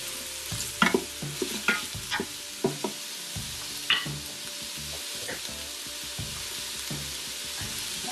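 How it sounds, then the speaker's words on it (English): Onions stirred in an Instant Pot for wild hog chile verde make a run of distinct scraping and clacking strokes over a soft, continuous sizzle, busy at first, then thinning out. "And I'll add the onions. I'm gonna stir these up."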